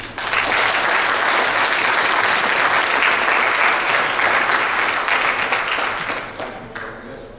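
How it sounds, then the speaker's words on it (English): Sustained, loud applause from an audience at a 2013 trustees debate in West Chester, Ohio, holding steady for about six seconds before tapering off. "If you could give him a round of applause."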